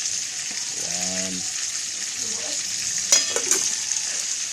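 Fish frying in a pan, alongside a dish of fish simmered in vinegar: a steady, close sizzle runs throughout, with a few sharper crackles and clinks near the end.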